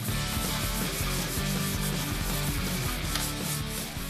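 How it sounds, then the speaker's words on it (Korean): Sandpaper scrubs the surface of a refurbished mother-of-pearl lacquer cabinet in quick, rhythmic back-and-forth strokes, a dense, close, continuous rasping with no talk. "이제 오칠이 잘 먹도록 표면에 사포질을 하고요."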